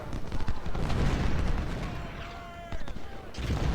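Massed musket volleys and booming artillery roll through a large Civil War battle at Bull Run in Ultimate General: Civil War, continuous and dense, with someone talking over the din.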